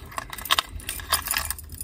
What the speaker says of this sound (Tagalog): iiwan natin yung susi ng sasakyan